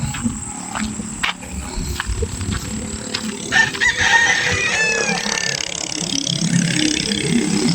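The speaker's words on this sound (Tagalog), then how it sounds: "Ayun o, may mga manok dito." Chickens cluck and a rooster crows in the middle distance, with a steady outdoor background and rustling noise throughout, on a rural morning walk in San Agustin, Candaba, Pampanga, Philippines.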